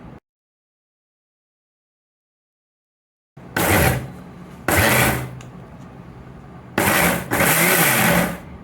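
A Bosch Truemixx Bold mixer grinder pulses a coconut, mint and green chilli chutney after a long silence, in loud bursts of high whirring grind separated by short drops, four pulses in all.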